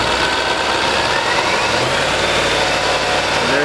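A Land Rover/Jaguar 3.0L engine is held at a steady 3000 RPM, a continuous close mechanical drone with constant loudness and no talk.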